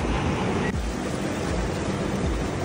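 Ocean surf at a beach in Bali, a continuous loud roar of breaking waves mixed with wind buffeting the microphone, heard close with no voices.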